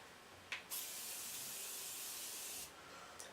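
A Morphe Setting Mist spray bottle releases a steady, close hiss of fine mist lasting about two seconds, preceded by a short click of the nozzle, with no talking.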